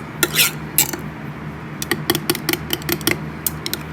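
A mixture for a laminate being stirred in a cup, with quick clinking and scraping taps of a utensil against the cup wall in an irregular rhythm, close and clear over faint room hum.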